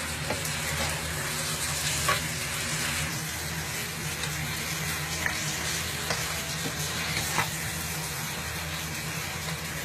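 Karahi meat being stirred and mixed with salt in a hot pan, a steady close sizzle and fry with occasional scraping clinks of the spoon against the pan.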